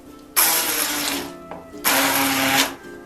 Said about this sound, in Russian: но я его пробью блендером.